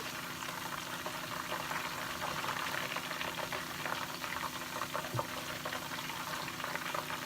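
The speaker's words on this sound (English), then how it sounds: "So you just want to go ahead and fry these until they're all golden." Vegan TVP pieces fry in hot oil, a dense, steady sizzle and bubbling that holds at an even level throughout without talk.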